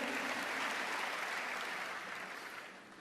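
Church congregation applauding during a sermon, a dense, steady wash of clapping that holds strong for about three seconds before tapering slightly at the end.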